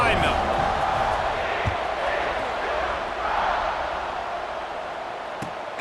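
A stadium crowd in EA Sports College Football 26 roars steadily at kickoff, a dense, continuous wash of cheering with no clear breaks.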